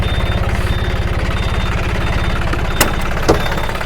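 A tractor engine idles steadily nearby with a low, even chugging rhythm, and a couple of brief metallic clicks.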